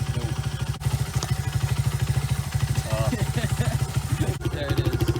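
A Honda XR100R pit bike engine runs with a fast, even, thumping idle pulse, loud and close, while a person talks over it.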